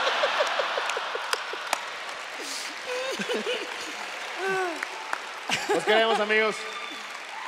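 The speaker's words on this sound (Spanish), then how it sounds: "Fuerte aplauso otra vez para Leyendas Legendarias." Applause from a theatre audience at a comedy roast show fades under a voice speaking and cheering over it, with whistles and shouts rising near the end.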